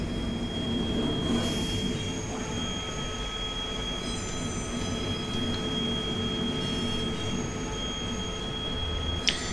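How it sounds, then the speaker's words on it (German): Steady rumble of a Vossloh G6 shunting locomotive with wagons in Train Simulator 2020, its wheels squealing through curves as a thin, sustained high whine running the whole time over the rolling noise, with no talk. "dieses Quietschen kommt doch tatsächlich von den Kurven"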